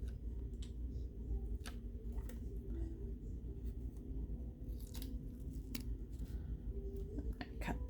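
Scissors snip through card stock being trimmed for a handmade card design, a series of short, close, crisp cuts spaced irregularly over a low steady background hum.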